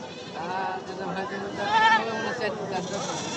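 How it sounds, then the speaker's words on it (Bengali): A female goat bleats at a Monday livestock market in Nowhata, a few wavering cries close by amid constant crowd chatter and nearby voices. "এই পাটি ছাগল আপনার"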